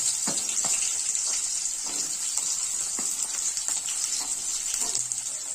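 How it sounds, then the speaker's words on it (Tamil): Chillies, garlic and small onions sizzle and crackle in hot oil while tempering for a radish sambar, a steady moderate frying hiss with scattered pops throughout. "சாம்பார் தாளிக்கிறதுக்கு மிளகா, கருவேப்பிலை, வெங்காயம்."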